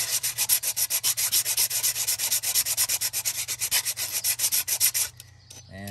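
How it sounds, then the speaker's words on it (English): Sandpaper rubbed back and forth over a car thermostat housing to flatten the mating surface, a steady rapid rasping rhythm of close, loud strokes that stops near the end. "that's where the sandpaper comes in"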